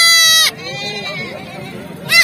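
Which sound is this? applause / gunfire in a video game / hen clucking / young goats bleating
young goats bleating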